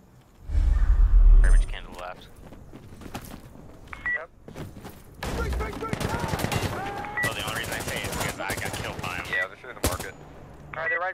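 Automatic gunfire in Insurgency Sandstorm: a loud close burst early, then dense rapid shooting mixed with distant shots, with a player talking over parts of it.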